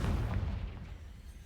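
A Confringo blasting spell goes off in Hogwarts Legacy, heard as a deep booming explosion that rumbles and fades over about a second. It is fairly quiet overall.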